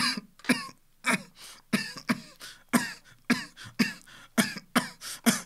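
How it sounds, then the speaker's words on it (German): A close, rapid fit of harsh coughs, about a dozen bursts in a row with short gasping breaths between them. "Und ich krieg so einen Hustenanfall"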